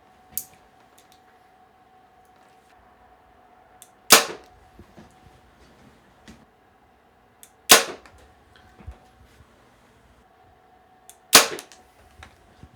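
Three sharp, loud shots from a 2025 Hoyt Alpha AX-2 32 compound bow, evenly spaced several seconds apart, each a sudden crack with a brief decay, set against a steady faint electronic tone.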